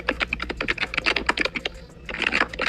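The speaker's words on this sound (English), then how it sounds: "You typing?" Fast, continuous typing on a computer keyboard, with dense bright clicks in a steady rapid rhythm, close and loud, a brief pause near the middle, then another flurry of keystrokes.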